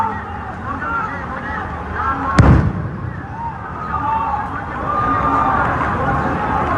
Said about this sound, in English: fire several rounds of the tear gas shells to disperse the protesters